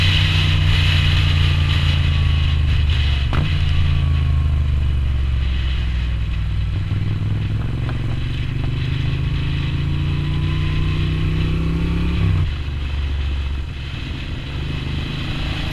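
A newer Triumph Thruxton motorcycle overtakes on an open road, its engine droning steadily and loud throughout, with rising pitch sweeps as it accelerates past and a brief shift near the end.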